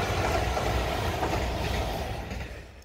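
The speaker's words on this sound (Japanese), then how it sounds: "梅雨払いとして特急飛騨7号がやってきました。" The Hida 7 limited express train crosses an iron railway bridge over the Hida River in Toyama with a loud, steady rumbling roar of wheels and steel that slowly fades toward the end.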